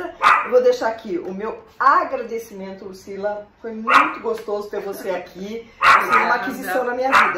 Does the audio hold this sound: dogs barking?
yes